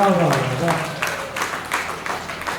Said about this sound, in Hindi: इस बात पे आप लोगों की तालियां होनी चाहिए